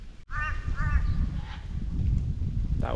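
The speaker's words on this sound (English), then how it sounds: "Birds in the background." Outdoors in Limmen National Park, Northern Territory, a bird gives two quick raspy crow-like caws early on over steady wind rumble, then only the breeze remains.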